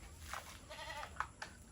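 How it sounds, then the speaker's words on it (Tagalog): A goat on a farm that has just given birth bleats at dusk: a few short, wavering bleats, close by and fairly soft, with no voices over them. "yung kambing."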